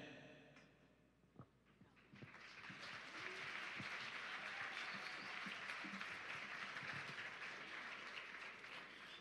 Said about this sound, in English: Let's give a warm round of applause for 4 of our very own Arts High School students